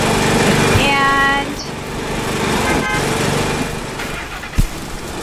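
Engine of a tractor in the video game Death Tractor, a steady buzzing drone heard close and continuous with a brief honk-like tone, under a single spoken word.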